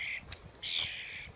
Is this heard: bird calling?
yes